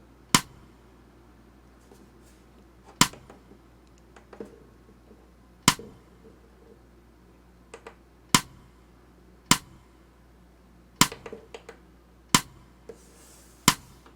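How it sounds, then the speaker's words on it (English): A programmed clap sample on a Roland Fantom 06 synthesizer sounds as sharp, dry, isolated hits spaced a couple of seconds apart over a faint low hum, with no voices. "let's put a clap in here"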